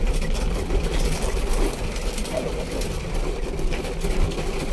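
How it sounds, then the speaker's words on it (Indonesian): A motorbike engine rumbles steadily close by with an unbroken low drone and no clear changes in pace, set against dense outdoor noise with no talk. "Ada motor."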